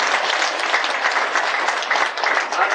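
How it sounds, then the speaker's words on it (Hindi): Loud, steady applause from an audience clapping for children at a meditation session, a dense continuous patter held up close for the whole stretch. "एक बार जोरदार ताली बजाएंगे"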